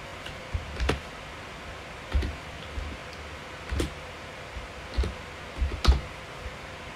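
A computer keyboard is being typed on slowly while entering cheat code commands for GTA San Andreas. Sparse, distinct key clicks come at irregular intervals over a quiet background.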